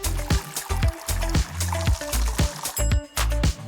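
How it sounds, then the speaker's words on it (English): Cartoon water glugs into a container in a tiny paper clue game, heard as a quick rhythmic run of bubbly, gurgling spurts, each with a short falling tone, and no talking. "Fill it up with water."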